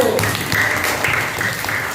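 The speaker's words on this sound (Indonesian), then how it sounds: "tepuk tangan untuk kelompok 1" Classroom applause for a student group after their presentation, a short burst of clapping from a class sounding close and steady for a couple of seconds.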